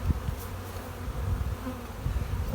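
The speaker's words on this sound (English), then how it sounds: "So, appears to be lots of bees there." Many bees buzz close at an opened hive in spring, a dense, wavering drone with individual insects swelling past, loud and continuous without speech.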